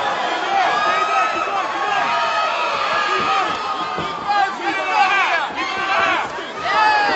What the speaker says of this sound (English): The crowd chanting cowboy for the 11th ranked fighter from New Mexico